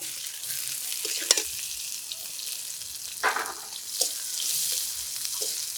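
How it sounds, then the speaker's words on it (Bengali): Chopped onion sizzling in hot mustard-style oil already tempered with dried red chilli, whole bay leaf and cumin, a steady close hiss with a few sharp clinks of a utensil against the pan and no talk. "এবার দেবো পেঁয়াজ কুচি।"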